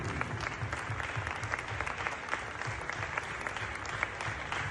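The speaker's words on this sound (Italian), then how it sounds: "Ancora un forte applauso" Sustained, dense applause from an audience at a dance lesson with a maestro in Caorle, steady and full throughout without a break, a crowd clapping near and loud with no talk over it.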